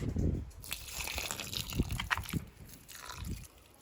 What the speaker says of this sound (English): Okay, now put some water on.